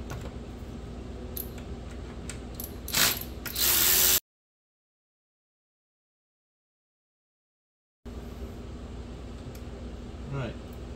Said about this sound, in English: Taking a few seconds more to put these bolts back in their place.